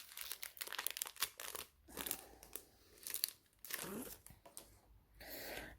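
Close crinkling and tearing of plastic as diamond painting packaging is opened, bursts of rustling in quick handfuls with short pauses, quiet, with a voice talking now and then.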